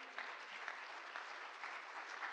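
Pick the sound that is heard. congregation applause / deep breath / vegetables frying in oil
congregation applause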